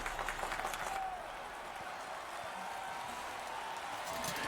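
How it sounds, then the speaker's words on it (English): A large crowd yells and cheers during a monster fight in The Witcher 3, a dense roar of many voices that is loudest at first, then holds steady in the background. "there's a whole bunch of people yelling and cheering about"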